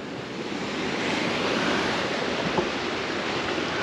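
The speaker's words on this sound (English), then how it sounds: "This is the upper falls." Upper falls of a low-running creek at McKinney Falls State Park, Texas, give a steady, broad rushing wash of falling water, even and continuous without any voices.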